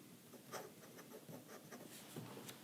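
Fine steel nib of a Delta Matte Journal fountain pen scratching quickly across paper, soft close strokes in a steady irregular rhythm of short scribbles, faint and alone with no talk.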